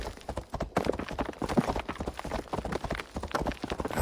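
Horse hooves clip-clopping in Assassin's Creed Valhalla, a quick, uneven run of hoof beats that stays close and busy throughout, mixed with other game sounds.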